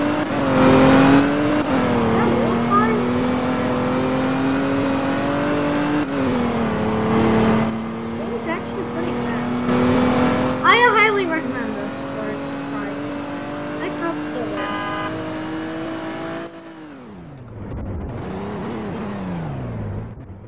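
A remote-control Corvette drives with a steady high motor whine that rises and dips over about seventeen seconds, then trails off and comes back briefly. Background chatter runs underneath.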